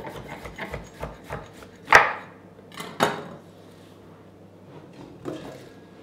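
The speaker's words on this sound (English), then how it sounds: "We're going to chop a carrot." A knife chops through a carrot on a wooden board, with a quick run of light taps followed by a few louder, sharper chops spaced apart, close up and heard alone.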